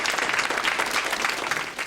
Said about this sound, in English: I'd like you all to give a big round of applause to the runners-up, Penny and Raymond Craddock